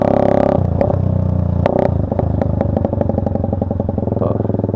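A Suzuki Marauder cruiser motorcycle's exhaust drones loudly and steadily while riding, with a deep rhythmic thrum and rattling pulses as the engine settles after an initial higher rev, no voices.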